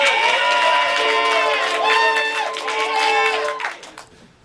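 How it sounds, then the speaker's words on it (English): A crowd cheers and applauds for the blue team after a round of Identity at a team game show, loud sustained shouting and whooping voices over clapping that falls away abruptly near the end. "applaud now for the blue team in the game of Identity"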